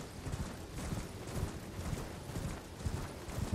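Horse hooves galloping at night in the video game Elden Ring, a steady rhythmic clip-clop with game ambience and no talking.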